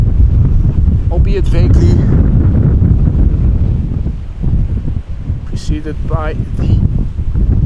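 Gusty crosswind buffeting a microphone at Amsterdam Schiphol Airport, a loud continuous low roar throughout with a commentator talking over it.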